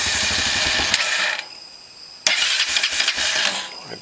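Honda Foreman 450 ATV engine cranking over with a starter, a steady mechanical whir that stops briefly and then resumes, close and fairly loud with no talking.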